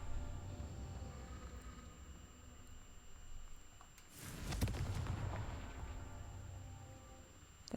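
A Confringo spell blast in a fantasy video game, a single rumbling explosive burst midway that swells and slowly fades over a low background hum, with no talk.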